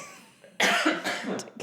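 A person coughs while walking back to their seat: a sudden harsh burst followed by a few rougher coughs, close and fairly loud, with a quieter exhale at the end.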